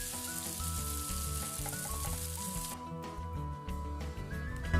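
Trabzon-style anchovy bread frying in a covered pan, giving a steady close sizzle with faint crackles throughout and no voices.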